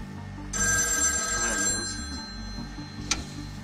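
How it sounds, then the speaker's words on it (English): A telephone bell rings loudly in a quiet desert setting, one sustained burst of ringing that fades out, followed by a single sharp click. "a ringing phone was almost violent, and you couldn't ignore it"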